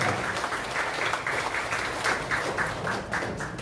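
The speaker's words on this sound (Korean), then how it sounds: "다시 한번 뜨거운 박수 부탁드리겠습니다" Sustained applause fills a hall at a Liberty Korea Party provincial chairman's inauguration, many hands clapping in a thick, even roar that swells slightly in rhythmic pulses and holds at moderate loudness with no voices.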